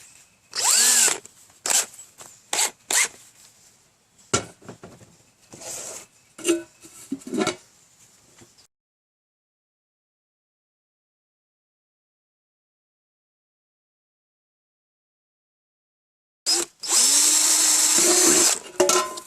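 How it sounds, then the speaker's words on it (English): A power drill bores pilot holes in a #10 tin can in a string of short whining bursts, then goes silent for several seconds before one longer burst of drilling. "Let's start riddling this thing with holes. I'm going to do all pilot holes first."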